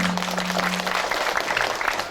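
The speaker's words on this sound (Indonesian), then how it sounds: "Boleh tepuk tangannya mana?" A studio audience at an Indonesian religious TV program breaks into sustained, dense applause that holds steady throughout, with a brief steady tone sounding underneath at the start.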